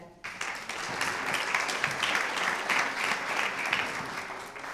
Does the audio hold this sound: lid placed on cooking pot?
no